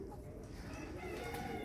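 Japanese silkie chickens, four hens and a young rooster, give faint calls and clucks in a quiet coop.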